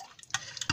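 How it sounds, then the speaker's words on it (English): A spoon stirring a small batch of glycerin body mist mixture, a few quick light clinks and liquid ticks against the container, close and brief. "I'll stir it properly to make sure everything is mixed"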